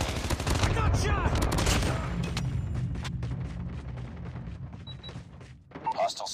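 Dense gunfire and explosions in a Call of Duty Mobile multiplayer match, with loud shots and bursts packed together up close, under radio-style in-game voice callouts.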